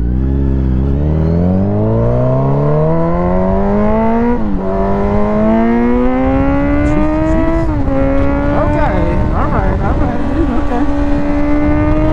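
A motorcycle on a back road accelerates hard under throttle, its engine note climbing steadily through several gear changes, loud and close, with a brief rough section near the end.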